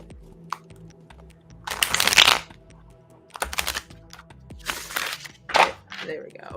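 A deck of tarot cards is shuffled in several quick riffling bursts of crisp, close flutter, separated by pauses, with a person talking between them.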